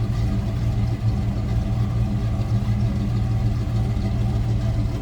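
Steady, throaty rumble of a 1970 Pontiac GTO's 455 V8 at idle, close by and unchanging, with a slight pulse in the low end.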